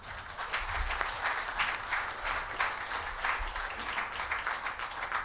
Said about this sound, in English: Ladies and gentlemen, a big round of applause, please.